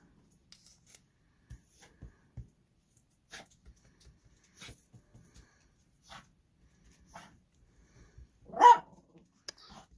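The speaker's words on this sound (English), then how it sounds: "There goes my doggy." A dog barks once, fairly close and loud, near the end, amid faint scattered taps and rustling in an otherwise quiet room.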